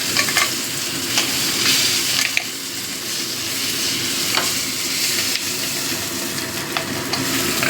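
Crab legs fry in hot mustard oil in a pan, giving a loud, steady sizzle with light scraping and clinks as the pieces are lifted out, and no talking.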